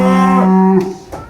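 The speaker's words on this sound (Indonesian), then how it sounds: "Besar banget ya ini ya sapinya." A giant Belgian cow coming off a truck lets out one loud, close, drawn-out moo, followed by a brief softer grunt.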